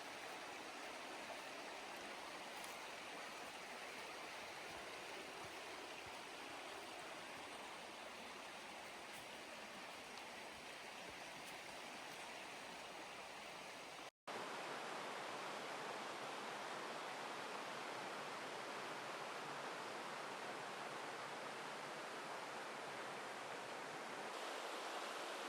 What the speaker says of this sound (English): it looks like it's raining and it sounds like it's raining, but it's actually just water dripping over the rocks